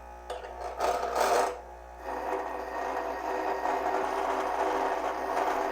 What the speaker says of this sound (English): All right, what about bench grinder? Some nice sparks.